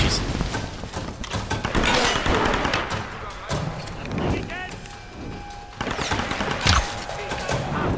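Bursts of Tomb Raider gunfire and explosive blasts mixed with a voice speaking over them, with a sharp loud impact near the end.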